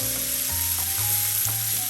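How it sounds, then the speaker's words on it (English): Tomatoes sautéing in a hot pan for street tacos, a steady close sizzle and fry with faint stirring, no voices. "a quick saute."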